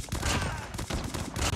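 Rapid automatic gunfire from a Chicom build in the mobile shooter Call of Duty Mobile, a dense burst of close, loud shots rattling continuously for under two seconds with no talking.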